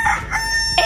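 A person imitates a rooster crowing in a short, strained burst of voice, close and fairly loud.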